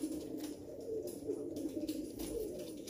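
Indian pigeons, a big red-checker hen and a cock, coo repeatedly at close range in rolling, throaty phrases that rise and fall over a faint background hum, with no one talking.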